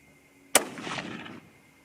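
One sharp crack from a 25-06 Remington rifle firing a 100–105 grain load, followed by a short rumbling echo that fades within a second.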